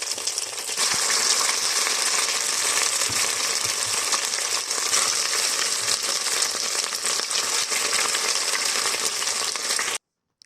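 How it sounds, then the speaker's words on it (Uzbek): Boiled cauliflower mixed with two beaten eggs fries in hot oil for a cauliflower salad, a steady dense crackling hiss that holds unbroken for about ten seconds, then cuts off abruptly. "Mana gulkaramlarimiz ham qovurilib oldi"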